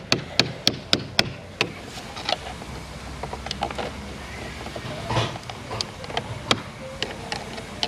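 Metal parts on a stuck Ford Taurus transmission mount get knocked free: a quick run of sharp, evenly spaced strikes opens the clip, then scattered lighter taps and clunks follow at close range.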